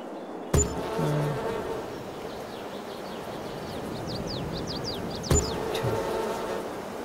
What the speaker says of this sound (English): here are the animals, bees, big one